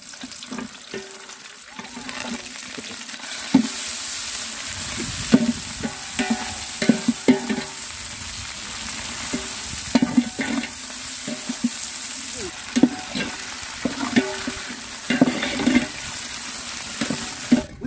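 Onions fried with fresh coriander and mint leaves for vegetable biryani, a steady close sizzle with scattered stirring clatter against the pan and a faint voice at times.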